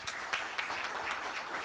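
Audience at a meeting applauding: a short, faint burst of scattered hand clapping from a crowd, heard at a distance for under two seconds.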